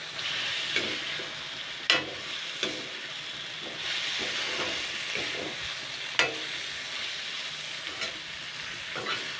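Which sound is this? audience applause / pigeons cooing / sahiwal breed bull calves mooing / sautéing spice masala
sautéing spice masala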